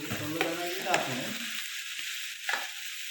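Prawns fry in a hot pan, a busy crackling sizzle that thins out partway through, with a few stirring scrapes and one louder clink.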